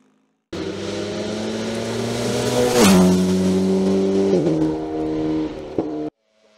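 Alpine A110 GT4 GT Sport race car accelerating hard up a hillclimb course, engine note climbing through gear changes with a brief lift near the end, loud and close, no talk.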